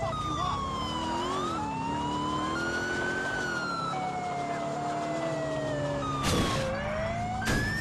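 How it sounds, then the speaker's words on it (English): In Grand Theft Auto 4, a police car siren wails continuously, its pitch stepping up and down in repeated sweeps over a steady engine rumble, with two sharp bursts of noise late on. "that's like an impotent siren right there."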